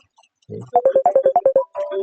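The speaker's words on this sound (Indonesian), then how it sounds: "Sorry ya, telepon lagi." A phone ringtone plays a quick run of about nine evenly spaced electronic beeps, close and clear, with a short voice-like sound just before it.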